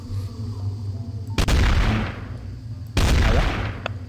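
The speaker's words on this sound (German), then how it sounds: "Ich hab die Statuen angeschossen." Two loud gunshots ring out about a second and a half apart in the video game Trouble in Terrorist Town as statues are shot. Each blast has a sharp attack and a decaying echo.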